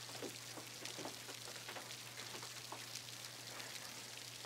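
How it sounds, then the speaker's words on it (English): Steady, faint rain patters on a surface with a soft hiss and scattered drips, accompanied by a low constant hum. "it's raining."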